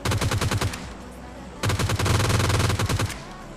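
Automatic gunfire in the mobile game BGMI, two loud bursts of rapid shots separated by a short gap.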